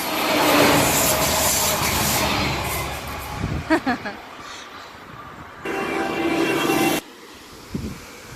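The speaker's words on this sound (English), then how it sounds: "There's the commuter train." A commuter train rumbles past at close range near Steinwenden, Germany, in a loud, broad wash of noise, with brief clanking and a voice speaking over it.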